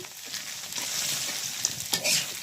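Amla frying in hot oil with dried chilies, turmeric, chili powder and salt, a steady close sizzle with scraping stir strokes and a few sharper crackles near the end, no voices.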